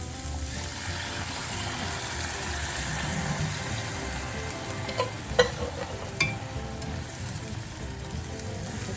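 Onions and chickpeas frying in a pan that was already used for mushrooms and onions give a steady, moderate sizzle throughout, with a few brief clicks and stirring scrapes near the middle.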